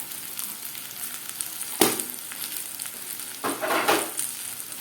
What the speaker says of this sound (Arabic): شوح الرز بتاعي تشويحه حلوه